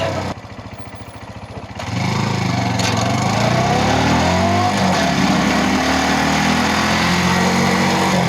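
A Brixton Cromwell 125cc motorcycle engine idles, then revs up and holds a loud, steady drone as it rides on the road, with wind noise over the engine.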